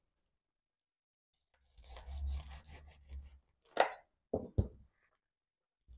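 A knife slices through a cheesy shahi chicken roll, giving a soft crunchy rasping cut followed by a few short sharp knocks of the blade against a board, close and quiet with no talking.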